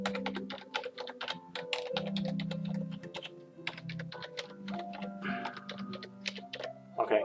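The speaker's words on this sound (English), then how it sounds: "now we're going to do all the keys again" Fingers type on a Microsoft Natural MultiMedia Ergonomic Keyboard, pressing many keys in quick, irregular bursts of close, crisp clicks and clacks. A low hum sits under the keystrokes and there is no talking.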